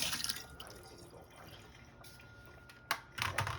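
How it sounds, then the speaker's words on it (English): Water dumped out of a matcha bowl into a sink, heard as a few short splashes and drips at the start and again near the end, with quieter trickling in between and no talking. "and then we'll dump out the water."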